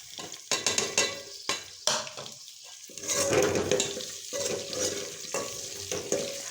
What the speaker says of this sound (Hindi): आलू भी फ्राई हो जाएंगे, ठीक है।